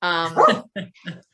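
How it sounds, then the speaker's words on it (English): A dog barks nearby indoors, one drawn-out bark followed by two shorter, softer ones in quick succession over about a second. "Sorry for the bougie dog barking."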